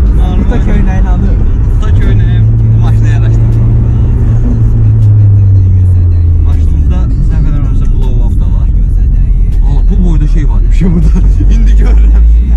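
A modified Lada Niva with over 350 hp cruises at normal speed, its engine droning steadily with a rising and falling tone in the middle, while people talk inside the car throughout.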